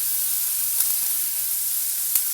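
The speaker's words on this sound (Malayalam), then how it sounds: "ഇതൊന്ന് വഴറ്റി ഒരു ഉള്ളിയൊക്കെ ഒരു ലൈറ്റ് ബ്രൗൺ കളർ ആവണ വരെ ഒന്ന് വഴറ്റിയെടുക്കുക" Onions and green chillies sautéing in a pan, a steady close sizzle with faint stirring clicks throughout the short stretch.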